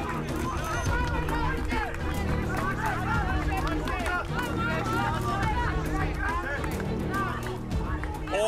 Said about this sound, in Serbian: Čini mi se da crveni jače navijaju